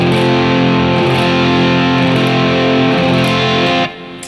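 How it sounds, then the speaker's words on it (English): Electric guitar rings out a sustained F bar chord, thick with distortion and an effects-unit sheen, held steady and loud for nearly four seconds before being cut off, with no voices over it. "we're down to an F bar chord now"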